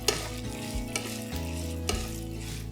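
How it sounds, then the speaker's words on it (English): Peanuts and urad dal frying in hot oil in a pan while being stirred, a steady close sizzle broken by a few sharp scraping stir strokes, with no voices. "Frying these peanuts and the dals is going to take a few minutes"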